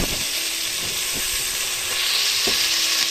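Taro and other ingredients for ginataan sizzle loudly in a hot pan, with a continuous hiss of frying and a few scrapes of stirring close by.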